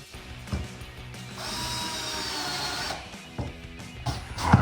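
Screw being driven into a front license plate bracket on a Jeep Wrangler JL, a steady close whirring ratchet-like grind lasting a couple of seconds with softer clicks and handling knocks around it.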